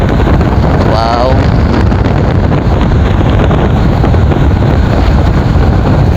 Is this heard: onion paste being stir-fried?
no